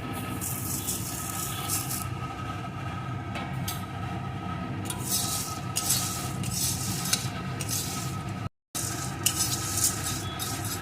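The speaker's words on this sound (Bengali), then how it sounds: "এগুলো ভাজতে একটু দেরি হয় তাই এই মশলাগুলো আমি আগে দিয়ে দিলাম" Whole spices such as coriander and fennel sizzle and crackle steadily in a hot pan while a utensil stirs them, with occasional scraping and clinks throughout and no talking.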